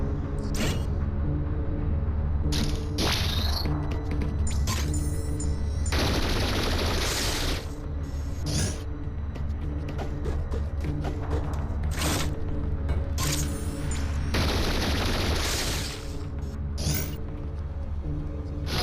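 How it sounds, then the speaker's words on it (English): Rapid-fire beam shots from Samus destroying turrets in Metroid: Samus Returns, heard as dense bursts of crackling blasts over a steady droning game soundtrack, loud and continuous throughout. "destroying turrets with the rapid fire beam"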